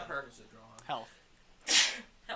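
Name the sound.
sneeze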